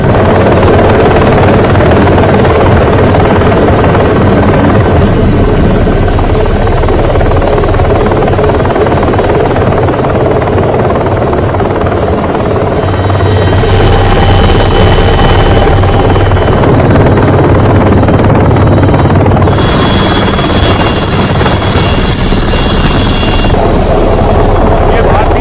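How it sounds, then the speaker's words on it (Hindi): An Indian Air Force helicopter flies over a cyclone-hit rescue scene in Sri Lanka, its loud, close rotor and engine roar filling the whole stretch without a break, while a voice talks over it. "किस तरह से भारतीय वायुसेना का हेलीकॉप्टर पहुंचा है श्रीलंका में"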